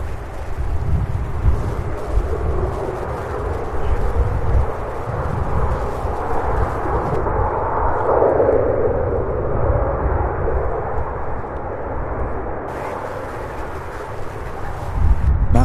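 Air Transport International Boeing 767 jet taking off at Louisville SDF, a loud sustained engine roar with rumbling low end and a shifting tonal whine midway, continuous throughout without speech.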